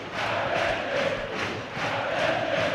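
Portsmouth football supporters in a packed stadium sing a rhythmic chant in unison, the massed voices swelling and pulsing in waves, loud and distant, with no talking over it.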